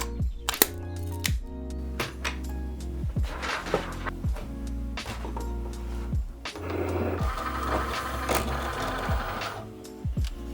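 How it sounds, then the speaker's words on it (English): A Cricut cutting machine whirs and clicks with its motorised carriage while cutting a circle in cardstock, giving a close series of mechanical moves, stepping tones and rhythmic thumps without any voices. "I'll use my Cricut cutting machine to make a perfect circle"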